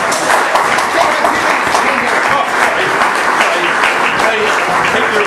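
An audience at a book launch applauding, with dense, sustained clapping that holds steady and loud for the whole stretch, with crowd voices mixed in.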